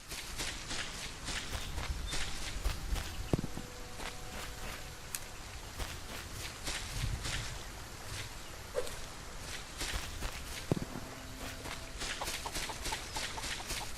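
Chickens cluck now and then in the Solarpunk video game, a survival game set on floating islands. The clucks sit under a steady run of rapid, crisp footsteps on the ground, and nobody speaks.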